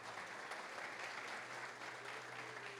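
A church congregation applauds, with dense, continuous clapping filling the room at moderate volume with no pauses.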